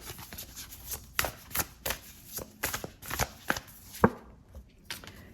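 Tarot cards being shuffled and pulled from the deck, a close run of quick papery riffles and soft slaps with a sharper snap near the end, heard alone without talk.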